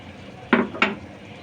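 Peas stirred in a cooking pan, with two quick scraping clinks of the utensil against the pan a moment apart, close and fairly soft.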